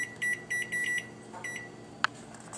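A kitchen timer beeps in short electronic bursts as it is set for a simmering pot while quinoa and sloppy joes cook for dinner. Several quick beep groups sound at moderate volume, then a single sharp click.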